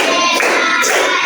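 Kids clapping their hands in a dense, steady patter, close and loud, in a school classroom, with little voice over it.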